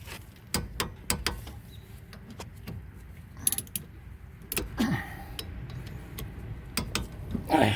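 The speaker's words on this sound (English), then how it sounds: "Now I can torque it down to 25 foot-pounds." Torque wrench tightening a rear brake bolt to 25 foot-pounds on a 2015 Toyota Camry: a series of close, sharp metallic clicks and ratcheting knocks in irregular bursts, with some handling clatter between.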